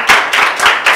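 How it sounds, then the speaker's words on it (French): An audience claps for a guest introduced at a fashion show event, giving a short run of four distinct, close, fairly loud clap bursts with no talking. "Applaudissez pour lui."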